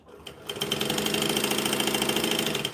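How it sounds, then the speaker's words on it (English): A sewing machine stitches straight up the center of bonded nylon fabric, starting with a brief whir and then holding a steady, rapid mechanical chatter, close and continuous. "we're going to sew straight up the center from bottom to top"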